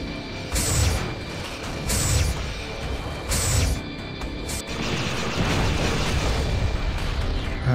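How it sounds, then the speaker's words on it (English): Quantum torpedoes detonate in Star Trek Bridge Commander, Enterprise-E against the Borg: repeated loud booming blasts at about one-second intervals early on, giving way to a sustained rumbling roar of explosions and effects. "Send a few quantum torpedoes."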